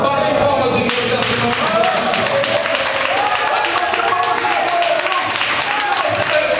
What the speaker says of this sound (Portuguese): Agora acredita na vitória, bate palmas em nome dessa